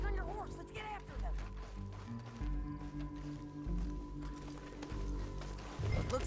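Hooves clatter in a quick galloping rhythm under a Red Dead Redemption 2 soundtrack, with someone talking over it.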